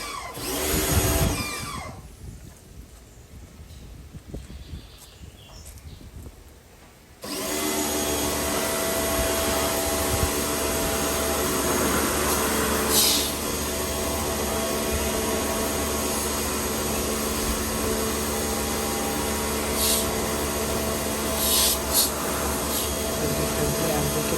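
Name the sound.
water spraying on air conditioner condenser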